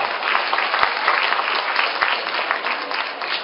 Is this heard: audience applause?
yes